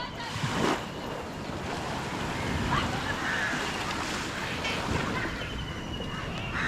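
Sea waves wash onto the shore as a steady, broad roar with wind buffeting the microphone and a few faint surges, continuous throughout with no clear talk.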